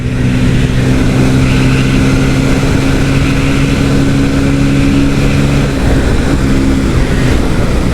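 A steady, loud engine drone runs throughout, holding a constant hum with no pauses, like a motorcycle cruising at an even pace.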